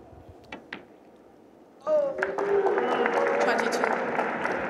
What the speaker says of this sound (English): They're cheering in every ball now.